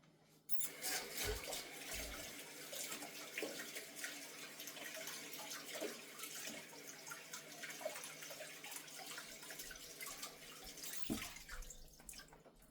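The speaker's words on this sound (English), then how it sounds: "So I'm gonna wash my scallions right now." Water runs steadily from a kitchen sink tap while scallions are washed, a close, continuous splashing rush with occasional thumps and clatter of handling.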